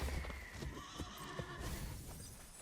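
Creature sound effect for an ostrich horse in the card game MTG Arena, a horse-like whinny with clopping hooves over a dense game backdrop, steady and moderately loud, no talk.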